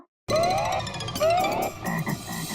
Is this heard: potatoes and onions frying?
no